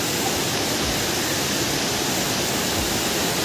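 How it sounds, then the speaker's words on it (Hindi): A fast, swollen mountain stream in Uttarakhand rushes after heavy rain, a dense, steady, loud roar of churning water with no pauses, heard up close. "और ये पानी का बहाव देखो दोस्तों, इतना तेज़ है"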